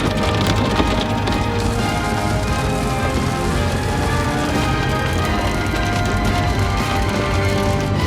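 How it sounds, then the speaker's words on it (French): Hail hammers a storm-chasing vehicle during a tornado warning, a dense, loud, continuous clatter of hard stones rattling on metal and glass close around. "le bruit de la grêle"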